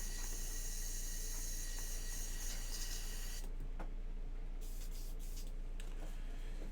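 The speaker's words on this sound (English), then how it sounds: "Just spray it into the air. Just let it mist all in my office here." Aerosol spray can misting paint into the air in a small office while painting a miniature figure: a continuous broad hiss that holds steady, softening partway through, with no talk.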